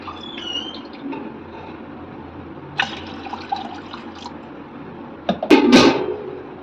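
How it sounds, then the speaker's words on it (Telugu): Water pours into a cooking pot holding green chillies, a little oil and turmeric, a steady splashing rush that swells into a louder, fuller gush near the end, with some clattering of kitchenware. "తగిన నీళ్ళు పోసుకొని"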